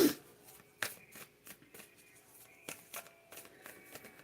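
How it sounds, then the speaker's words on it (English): A deck of playing cards shuffled in quick, crisp riffled bursts separated by pauses, fairly quiet and close, with no talking. "We're going to put these back in and keep shuffling."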